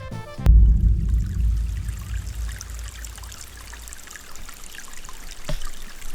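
Maple sap runs through vacuum tubing and main lines downhill into a sugar shack, a continuous trickling, gurgling flow that opens with a sharp knock and stays moderately loud throughout.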